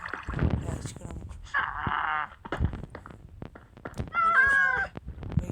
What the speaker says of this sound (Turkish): Ne kedi çıktı ya.